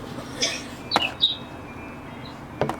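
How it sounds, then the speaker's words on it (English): Birds chirp outside in short, scattered high calls, a few brief tweets standing out over quiet background. "I hear birds outside."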